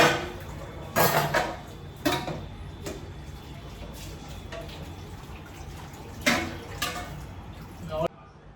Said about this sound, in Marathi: जेंट्स अजून भांडी घासतो